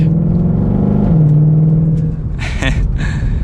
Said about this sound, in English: we'll give it another mild acceleration before we unfortunately have to give this back